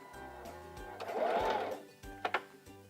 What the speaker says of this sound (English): I'm going to push down on our reverse lever and go back over those same